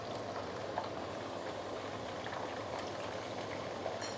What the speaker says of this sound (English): Next thing, I'm going to deep fry the veggie.